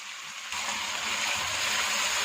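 Chicken jalfrezi with its paste frying in a pan, a steady broadband sizzle that jumps louder partway through and then holds even and close, no talking.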